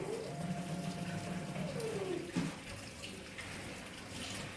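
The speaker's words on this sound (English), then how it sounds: "I am going to have Lillian wash her hands and do it really fast the first time." Hands rinsed quickly under a running tap, a steady close wash of flowing water with splashing that shifts as the hands move through the stream.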